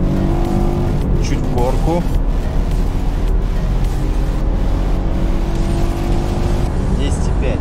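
A BMW F30 318i with 136 hp pulls hard from standstill toward 100 km/h in sport mode, its engine note climbing through the revs with gear-change dips, heard from inside the cabin while someone speaks briefly over it.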